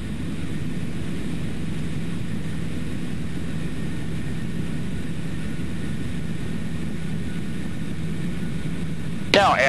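Steady drone of a light training airplane's engine and propeller with the power pulled back during stall practice, a constant low hum filling the cabin.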